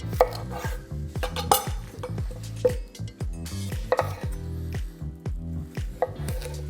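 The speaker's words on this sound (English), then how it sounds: "I'm gonna chop off the bottom and the stem." A knife chops the bottoms and stems off fresh beets on a cutting board, with a string of close, firm thunks in an uneven rhythm and no talking.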